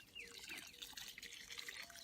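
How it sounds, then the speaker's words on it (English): Compost tea poured over a newly planted tomato, a soft close trickle and splash of liquid soaking into garden soil, steady for a couple of seconds with no voices. "I am going to water it in"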